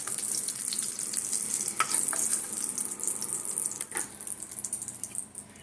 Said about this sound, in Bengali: যা তেল দিয়েছি তাতেই আলু পটল আর চিংড়ি মাছ একসঙ্গে মানে পরপর ভেজে নেবো